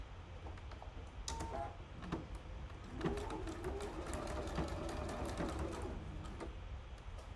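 A sewing machine stitches a pocket closed in a fast, continuous mechanical rattle with rapid needle ticks, close and steady for the whole stretch, with no talking.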